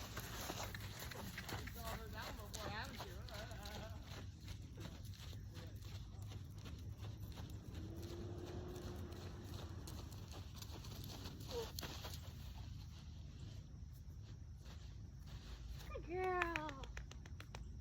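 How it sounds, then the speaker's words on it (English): A horse trotting in a showmanship demonstration, faint rhythmic hoof clip-clop under quiet background noise, with a few soft voices and a brief horse snort or whinny near the end. "So now we're going to demonstrate the trot."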